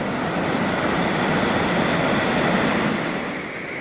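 A fast-flowing river of brown floodwater, swollen after a flood in a logging area near Telemong, rushes with a loud, steady, broadband roar that continues without a break and eases slightly at the end.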